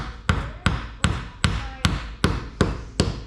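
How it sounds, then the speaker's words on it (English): Eight sharp hammer taps on a wooden block, tapping a wheel into place on a wooden toy car made from a 2x4, at an even, unhurried rhythm, each a crisp knock with a short ring, close by and fairly loud. "you get your hammer there, and then you're gonna tap it."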